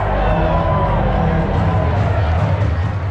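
Dense baseball stadium crowd on a Friday night in the bottom of the 8th, a steady loud roar of many voices with a swelling cheer as the wave passes through the stands.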